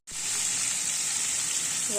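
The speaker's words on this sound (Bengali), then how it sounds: "আলু ভাজছি, আলুটা লাল লাল করে ভেজে মাংস দিলে কি না বেশ ভাল লাগে" Potatoes frying in a pan, a sudden loud hissing sizzle that starts abruptly and holds steady and close for the whole clip, with no voices.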